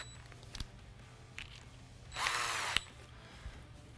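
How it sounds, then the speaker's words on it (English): A power drill whirs briefly at high speed for about half a second, spinning a Steyr AUG rifle part, with a few small clicks and taps before and after, fairly close. "just chuck it up in a drill"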